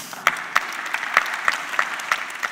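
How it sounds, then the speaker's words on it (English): Sparse, distinct claps ring out at a keynote talk, roughly one sharp clap every quarter second in a steady rhythm over a soft background murmur. "Please applause."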